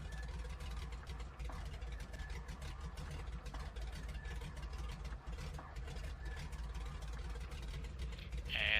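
A Grumman Goose's radial engine starting and settling into idle in Microsoft Flight Simulator, a steady, loud, low droning rumble that holds evenly throughout, with no talking over it.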